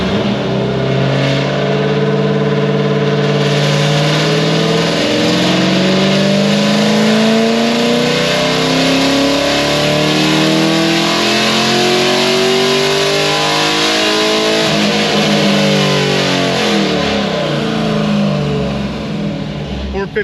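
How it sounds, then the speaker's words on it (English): A cam-only Chevy SS with a nearly straight-pipe exhaust roars close and very loud, its V8 revving up and down in long sweeping pulls with a harsh, rumbling drone. "It's basically straight pipe. This is definitely going to be too loud for a family car."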